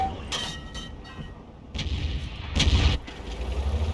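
Booming artillery shots from an M44 self-propelled gun in a video game, a few heavy blasts in quick succession over a low rumbling battlefield, the loudest burst near the end.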